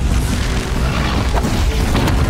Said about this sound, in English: Oh! That explosion.